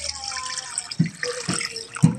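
Water poured into a cooking pot while braising pork hock paksiw, with a few splashy glugs and drips landing at irregular moments over a faint background hiss, close and fairly loud, with no voices.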